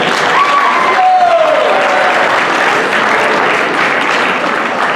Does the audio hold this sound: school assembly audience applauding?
yes